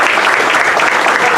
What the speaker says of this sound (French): On applaudit les dribbleurs de Saint-François.